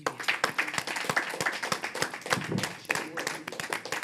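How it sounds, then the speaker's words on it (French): Applause follows a performance at a song contest, a lively burst of individual claps from a modest audience, close and uneven, with voices talking over it. "On applaudit bien fort"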